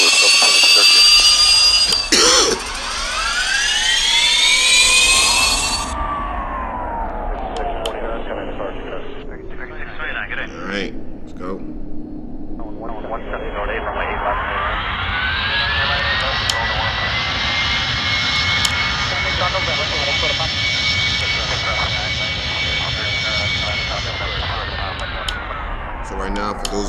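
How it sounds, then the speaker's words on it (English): Jet airliner engines whine and rumble steadily while the plane taxis in the flight game Airline Commander, with a pitch sweep early and a sustained loud drone that builds and holds. Speech-like radio chatter sits in the mix. "Right now, for those of you who don't know, this is called the taxi. We're taxiing."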